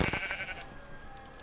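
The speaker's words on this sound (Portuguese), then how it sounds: "Ih, ovelha! Não esperava realmente achar." Sheep bleating in the video game Minecraft, two or three short close bleats at the start that fade into quiet ambient game sound.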